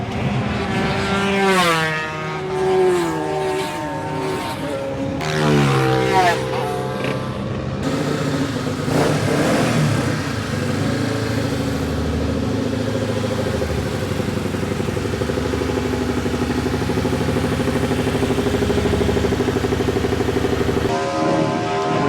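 Classic racing motorcycles, two-stroke and four-stroke from 125s to 1300s, pass by at Donington Park, loud engine whines sweeping up and down in pitch one after another, then settling into a sustained, fairly near roar of racing bikes.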